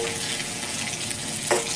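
Whole spices with chopped onion, ginger, green chilli, cinnamon, cardamom and cloves fry in oil in a pan for bhuna khichdi, giving a brief steady close sizzle with a small clink near the end.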